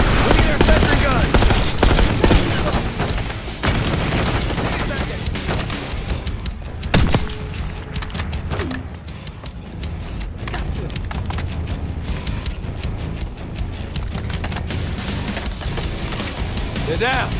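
Sentry gun turrets fire in rapid automatic bursts during a Call of Duty: Black Ops 6 battle, loud and sustained under shouted dialogue, with heavier booms and crackling impacts mixed in.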